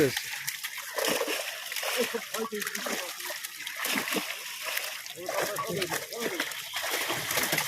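Large catla fish thrash in a fishing net pulled up in a village pond at Santoshpur, making repeated loud close splashes and slaps of water while people talk over the commotion.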